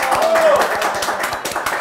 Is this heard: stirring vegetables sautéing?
no